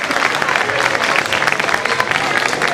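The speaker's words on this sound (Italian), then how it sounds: "Applauso più forte" Audience applauding at a poetry award ceremony in Posada, Sardinia, a dense, loud and continuous burst of clapping from a crowd, heard up close with no pauses.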